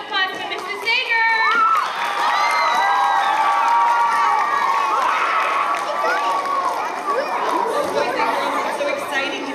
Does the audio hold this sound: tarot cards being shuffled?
no